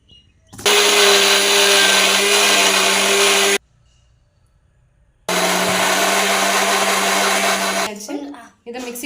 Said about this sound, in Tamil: அதையும் சேர்த்து அரைச்சிக்கலாம் மசாலாவோடனா.